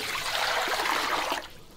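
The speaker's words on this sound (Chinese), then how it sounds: "锅中加水" Water pours into a cooking pot as a steady, close splashing stream for over a second, then cuts off, leaving a quieter drip and hush.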